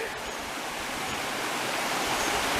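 Laurel Prong Creek in Shenandoah National Park rushes steadily nearby, a dense, even wash of flowing water with no pauses and no voices.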